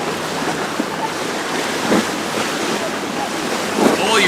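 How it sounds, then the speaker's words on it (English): Choppy canal waves slap against a small boat amid heavy wind buffeting the microphone, a constant rough wash with a couple of louder splashes standing out. "The waves in that canal are fucking brutal."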